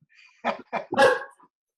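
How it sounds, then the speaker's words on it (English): A dog barks three times in quick succession, nearby and moderately loud, with the third bark longer and followed by a faint yip. "And now my dog is making all of this noise."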